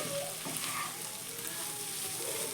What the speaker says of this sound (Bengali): এখানে কিন্তু ফুলকপিটা প্রায় ভাজা আমার হয়ে এসছে